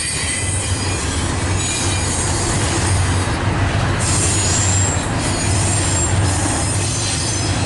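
A CN freight train rolls past close by with a loud, continuous roar, screeching wheel squeal and steady rail rumble.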